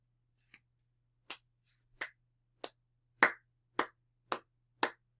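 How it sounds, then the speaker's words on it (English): A few sharp, isolated hand claps ring out one at a time in a quiet room, about eight evenly spaced hits that grow slightly louder, rather than a full round of applause. "Have a round of applause for Stats,"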